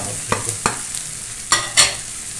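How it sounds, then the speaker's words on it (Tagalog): Onion and ground pepper sauté in a pan for pork paksiw, a close sizzle punctuated by four quick, sharp stirring scrapes of a spatula. "Sunod natin yung sibuyas. Sama rin natin yung pamintang group."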